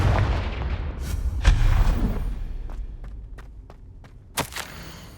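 A Confringo blasting spell goes off in Hogwarts Legacy, a booming explosion with rumbling decay, followed by a series of sharp cracks and a second loud blast near the end.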